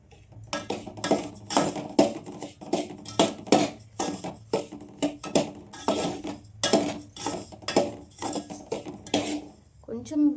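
A spoon stirs semolina with ghee in a pan for ravva laddu, making rhythmic, close metallic scrapes and clinks, roughly two strokes per second, repeating steadily throughout.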